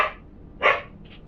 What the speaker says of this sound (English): barking doesn't get you attention